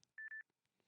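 A short burst of telephone touch-tones on a call-in radio line, two quick beeps joined almost as one, faint and thin against a quiet background.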